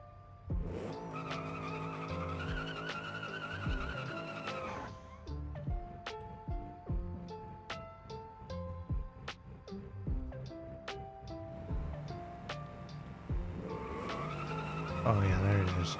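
A race car's tires skid and squeal in a racing game, with steady, sustained tonal screeching over engine noise. The screeching breaks into short repeated chirps in the middle and swells again near the end. A voice talks over it.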